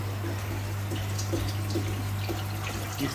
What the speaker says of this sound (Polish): Także woda sobie leci tutaj dołem.